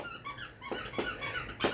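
A dog chews a squeaky deer toy, producing three sharp, high squeaks spaced a little apart, faint against a quiet indoor background.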